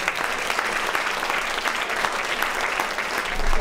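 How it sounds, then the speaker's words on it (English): An audience applauds faculty members at a university foundation presentation: a steady, dense wash of clapping that holds evenly for several seconds and swells slightly at the end, with no voices. "How about a round of applause for all of"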